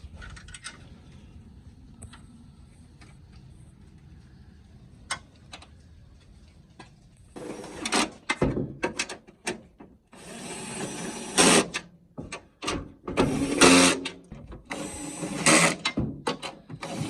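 A ratchet clicks steadily while tightening the wiper motor bolts on a 2012-2016 Honda CR-V. A quiet start gives way to loud, rapid bursts of clicking and metallic handling that last several seconds and sound close by.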